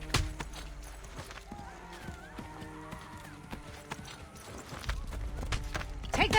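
Horse hooves clip-clopping in Assassin's Creed 3, the steady rhythmic beats mixed with game music and ambient noise, with a brief whinny and a heavier hoof burst near the end.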